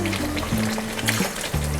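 Spiced water from a yogurt bowl is poured into a cooking pot of Kashmiri potato dum, trickling and splashing in short, uneven gurgles at close range.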